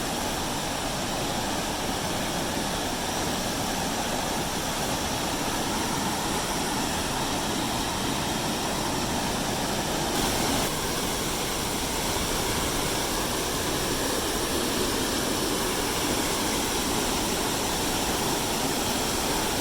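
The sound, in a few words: waterfall roaring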